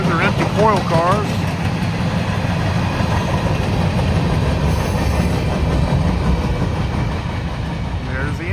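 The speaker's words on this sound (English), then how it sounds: "Nice little train, a little over 500 axles." A freight train of a little over 500 axles, including empty coil cars, rumbles past steadily and loudly, a continuous low roar and rattle with wheel clatter; brief voices and high squeals appear near the start.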